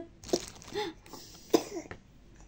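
Two sharp, fairly close coughs about a second apart, each a short harsh burst, with quieter throaty sounds in between.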